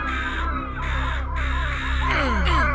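Crows cawing in an indie video game, a loud, continuous harsh cawing with a steady synthetic drone beneath it.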